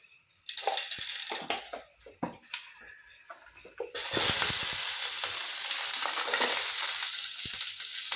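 Onion and grated coconut going into a hot tempering, first a few clatters and scrapes, then a sudden loud, steady sizzle that carries on to the end.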